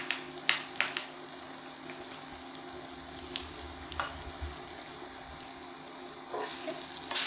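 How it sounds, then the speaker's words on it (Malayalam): Chilli powder is stirred into a frying Kerala-style egg roast masala, giving a soft steady sizzle with a few sharp spoon clicks against the pan, close up, and a louder stirring scrape near the end. "So we're mixing all together."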